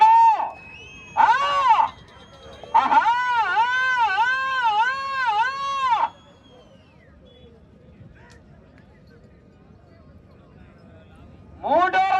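Crowd at a bull race letting out loud whistles and shouts, several sharp bursts of shrill whistling with a long sustained warbling blast in the middle, separated by quieter gaps of background murmur.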